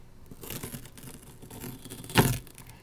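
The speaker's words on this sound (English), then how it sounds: "now let's take off this green tape" Green low-adhesion painter's-style tape peels off a sneaker package with soft tearing and crinkling, ending in one sharp, louder rip near the end.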